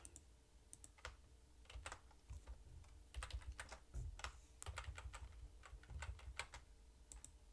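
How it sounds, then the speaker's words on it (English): Opera GX browser key-click sound effects play under steady typing, with quick irregular clicks in short bursts that stay faint and close, with no talking. "You're also going to hear a weird key click sound whenever I'm typing in my browser"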